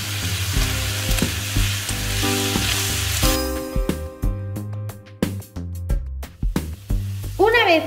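Spring roll filling cooking with soy sauce in a frying pan, a loud steady sizzle with stirring scrapes and clatter from a utensil against the pan, growing more broken and clanky toward the end.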